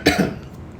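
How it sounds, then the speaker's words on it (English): One short, close cough from a narrator reading a Winnie-the-Pooh story aloud, voiced as the bear's little cough, a quick burst that fades out fast. "Pooh gave a little cough and began."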